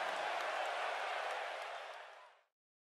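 Cheering and clapping from a wrestling arena crowd in the WWE 2K18 video game, a dense wash of applause that holds steady and then fades out to silence.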